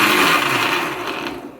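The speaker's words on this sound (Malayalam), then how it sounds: "ഈ പൈനാപ്പിൾ മിക്സിയിലിട്ട് നമുക്ക് നല്ലപോലെ അരച്ചെടുക്കാം" Mixer grinder blending pineapple pieces for homemade jam, a loud, close whirring grind that slowly fades toward the end, with no voices.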